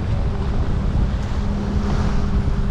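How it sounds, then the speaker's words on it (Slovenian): Steady wind roars and buffets the microphone aboard a Lagoon 42 catamaran under sail off Croatia in winds of about 25 knots, with low water rush beneath, continuous and loud throughout with no talk. "Ker jadramo, piha"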